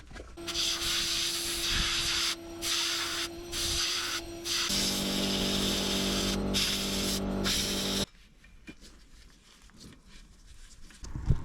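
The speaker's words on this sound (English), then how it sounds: "I'm going to spray one side of the buckets" Bursts of spray-gun hiss as a pair of mini excavator buckets is painted on one side, loud and steady with short pauses, followed by quieter shuffling and handling noise.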